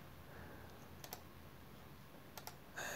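A few scattered keystrokes tap on a computer keyboard while a component name is entered in circuit design software. The presses are quiet and close against a faint room hum.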